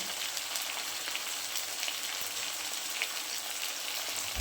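Turmeric powder sizzling in raw mustard oil in a pan, a steady bright hiss and crackle of frying that runs evenly throughout with no voices.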